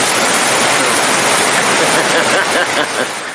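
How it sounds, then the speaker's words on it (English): A loud, steady rushing hiss from a thunderstorm sound effect played over a Zoom call, like heavy pouring rain, dense and continuous, fading slightly at the end. "That's supposed to sound like a thunderstorm,"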